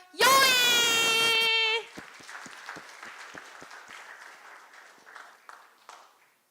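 An audience claps steadily after a loud tonal blast at the start, the applause fairly faint and thinning out toward the end.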